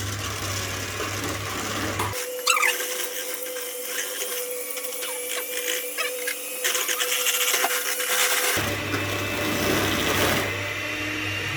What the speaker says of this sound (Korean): 일단 흰자 휘핑 들어갑니다.